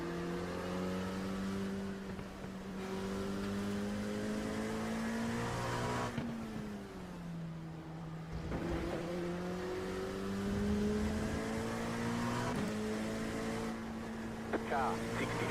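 Race car engines from a 50-lap race in a racing video game drone steadily and loudly, pitch climbing and dropping as cars accelerate and shift, with a voice talking over them.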